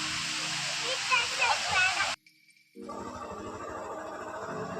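Water rushing over rocks in a stream, a loud, steady broadband roar that cuts out abruptly for about half a second partway through, then resumes slightly softer.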